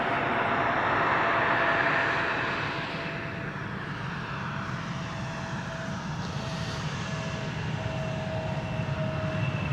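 An airliner arriving at Amsterdam Schiphol Airport on a freezing winter morning gives a steady, broad jet roar. It is loudest in the first two seconds, then settles into a slightly lower, continuous rumble with a faint sustained tone.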